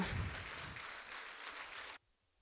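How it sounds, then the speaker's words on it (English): Seminar audience gives teachers a round of applause, a soft, distant wash of clapping that cuts off abruptly after about two seconds. "So please give a round of applause for them."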